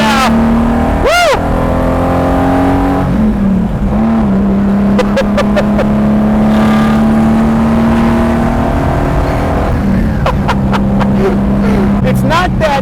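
A Lamborghini Jarama driven at full throttle, its engine loud and close as it accelerates with a steady, strained drone, alongside sharp whooping and other brief noises from the cabin.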